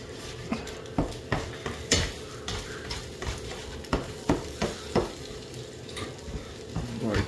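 Scrambled eggs stirred and frying in a pan, with repeated scraping strokes and a steady sizzle, close and fairly loud with no talking.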